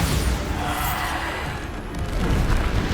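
A Bombarda blasting spell in Hogwarts Legacy goes off as a loud, close booming explosion, a rumbling crash that swells and holds across the moment with no voices over it.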